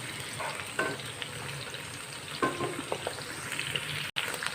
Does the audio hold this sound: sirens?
no